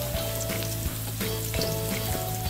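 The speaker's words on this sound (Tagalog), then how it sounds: "Halo lang ng halo hanggang sa mag-brown ang ating bawang." Chopped garlic sizzles steadily in a hot pan while being stirred for a squash-and-sardine dish, with a constant close frying crackle over a low steady hum and no talking.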